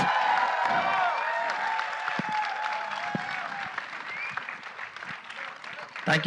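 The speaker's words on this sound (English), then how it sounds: "Come on, everyone, a loud round of applause." An audience at a film's first-glimpse launch event claps and cheers, the applause fading gradually while a few sharp claps and a whistle stand out, with a voice briefly over it.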